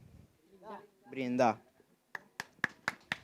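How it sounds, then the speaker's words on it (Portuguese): After a short stretch of talking, a handful of separate sharp hand claps ring out one after another in a quiet room, sparse and close rather than a full crowd's applause. "Aplauso."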